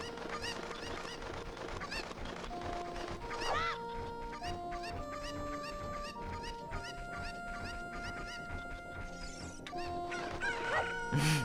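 Chickens cluck and squawk in Kakariko Village in Zelda: Ocarina of Time, with repeated fowl calls spread across the stretch over steady background game music and no voices.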